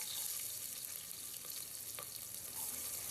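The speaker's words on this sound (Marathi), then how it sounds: "त्याच्यानंतर आता आपण याच्यात लसूण आणि कांदा एकसाथ टाकतो." Garlic and onion frying together in a pan with green chillies for a Konkan jackfruit vegetable dish, giving a steady, fairly quiet sizzle with faint scrapes and clicks throughout, no voices.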